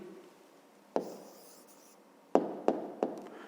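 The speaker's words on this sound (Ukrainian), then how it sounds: "Пишемо відповідь." A pen or pencil writes a fifth-grade maths answer on paper, close and quiet: a faint scratchy stroke followed by a few sharp taps and short scrapes, with no talking.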